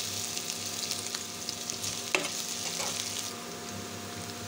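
Ginger garlic paste sizzles in a pan while cooking a potato and spinach curry, a steady broadband fry hiss with faint stirring scrapes and a small clack midway, close and continuous with no talking.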